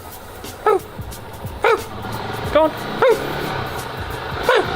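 A dog gives five short, sharp barks, spaced about a second apart, close by and fairly loud. Low background noise runs between the barks, and a person speaks briefly.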